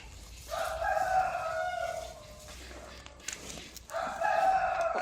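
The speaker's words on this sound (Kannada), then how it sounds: "ಸ್ವಲ್ಪ ಕೋಳಿಗಳು ಅಲ್ಲಿದ್ದಾವೆ, ಸ್ವಲ್ಪ ಇಲ್ಲಿ ಶೇಡಲ್ಲೇ ಇದ್ದಾವೆ." Roosters crow loudly on a farm in the rain, two long crows separated by a short pause, with chickens nearby and soft background patter.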